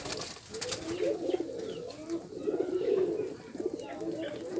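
Tumbler pigeons coo in soft, throaty repeated calls nearby, several birds overlapping at a steady murmur.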